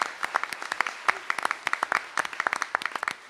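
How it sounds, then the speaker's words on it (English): Scattered clapping from a modest audience at a school board meeting honoring teachers on National Teachers Day; individual claps stand out as sharp, irregular bursts, fairly quiet and fading toward the end. "So let's give them a hand of applause"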